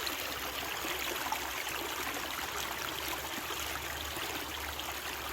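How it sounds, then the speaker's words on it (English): Waterfall pouring off a dam wall near an Appalachian Trail campsite, a steady broadband rush of falling water heard from a short distance, constant and unbroken with no talking. "Waterfall running back there off the wall from the dam"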